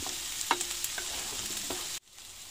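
Mushroom duxelles and onion confit sizzle steadily in pans over high heat on a camping-car stove, with close stirring scrapes and small spoon taps before the sound cuts off abruptly.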